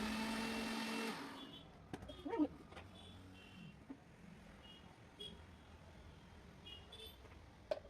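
A kitchen blender whirs loudly while blending milk, oats and two bananas into a smoothie, then cuts out after about a second, leaving a quiet room with faint scattered knocks and clinks.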